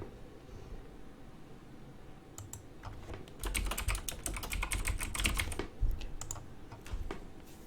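Someone types a username on a computer keyboard: a dense run of quick clicking keystrokes that begins after a quiet pause and continues fairly close and clear.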